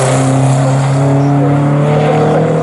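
A Morgan race car roars loudly and close through Murray's corner at Snetterton circuit, its engine note holding steady and strong across the short pass.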